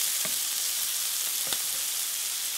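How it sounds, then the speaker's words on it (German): Onions frying hard over high heat in a pan, a steady bright sizzle with a couple of soft clicks from stirring, close and fairly quiet with no talking. "die Zwiebeln auf Vollgas anbraten"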